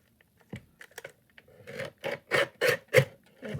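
Paper being cut with scissors for a collage in a faith-themed Bible journaling project: a run of close, dry snipping and rasping strokes, quickening into several louder bursts near the end, with no talking.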